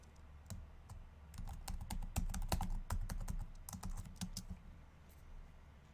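Rapid, uneven keystrokes on a computer keyboard as a password is entered, clicking in close bursts over a low background hum, with no talking.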